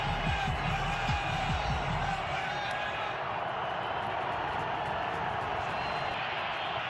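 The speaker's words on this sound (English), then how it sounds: "Crowd in full throat again." Stadium crowd at an NFL game between the Denver Broncos and Las Vegas Raiders roars in a steady, loud broadband wash that holds for the whole stretch, with a few thumps early on and no clear talk over it.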